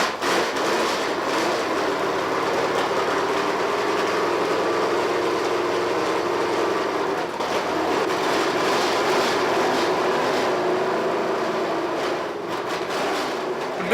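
A race engine fires and runs steadily, a loud sustained roar with a droning tone that holds for the whole stretch, slightly rising and falling, with no voices over it.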